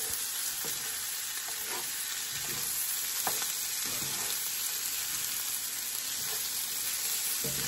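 Corn stirred as it fries in butter for maque choux: a constant close sizzle with a few soft scraping strokes of the spoon at irregular intervals, no voices.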